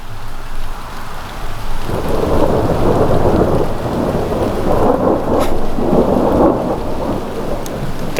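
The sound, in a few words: thunder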